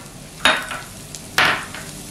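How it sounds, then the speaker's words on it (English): Dried oregano and fresh parsley cooking with onions and garlic in a pan, a soft steady sizzle broken by two scraping stirs of a utensil, close up. "So I'm just going to cook this in the onions and the garlic."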